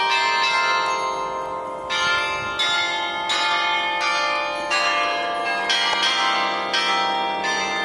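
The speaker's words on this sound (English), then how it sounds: "And the bell tower." Church bells ring from the bell tower of Darmstadt castle in Germany, repeated loud, resonant strikes in a steady rhythm with long overlapping ringing tones, heard from nearby outdoors.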